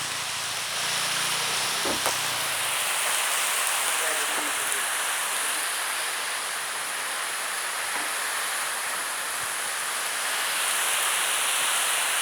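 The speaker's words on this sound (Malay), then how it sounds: "Hujan disertai angin." Heavy rain pours steadily in a dense, broadband hiss, with gusty wind rushing through it and a few brief knocks, rain wetting the recording camera.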